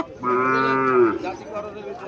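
A Sahiwal bull calf in Comilla gives one loud, drawn-out moo lasting about a second, close by, then trails off into quieter farmyard background.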